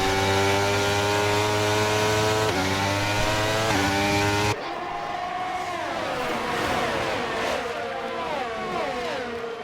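A pack of race cars in a racing video game revs up as it comes back to the line after a safety car at Qatar, with engines droning loudly and pitching up and down together.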